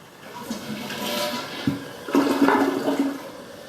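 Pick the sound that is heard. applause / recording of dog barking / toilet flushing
toilet flushing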